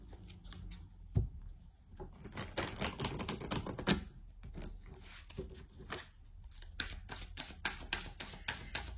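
Tarot cards are shuffled and drawn for a six-card spread, with fast crisp riffles and papery slaps in close, dense bursts broken by short pauses and no voices.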